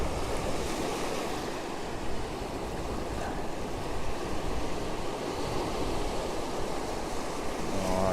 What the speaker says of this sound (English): Get those waves as they run out.